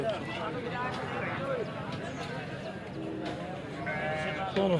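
Goats bleating at a crowded goat market in Khanewal, several wavering cries scattered through the clip over a busy murmur of voices and bustle, some calls close and others farther off.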